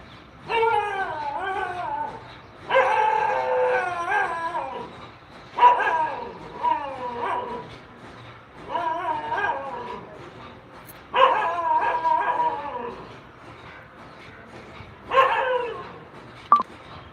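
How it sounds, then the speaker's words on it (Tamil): A dog barks in repeated bursts outdoors at evening among banana trees. The barks come in several loud, close clusters spaced a few seconds apart, with a voice speaking in the scene. "நாய் ஒரு பக்கம் குலைக்குது"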